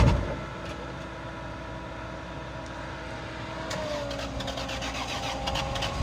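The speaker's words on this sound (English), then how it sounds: "All right, burnout time." A 2JZ-swapped Dodge Hellcat cranks and fires up before a burnout, a brief starter burst giving way to a steady close idle that rises slightly in pitch near the end, with no speech.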